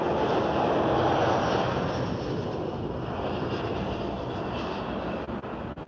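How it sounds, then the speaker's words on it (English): TAP Air Portugal Airbus A330 in a special 100th-anniversary livery taking off at Lisbon airport, a broad distant jet roar that swells and slowly fades, with some wind noise and no talk. "we have a takeoff by TAP Air Portugal's A330 with a 100th livery."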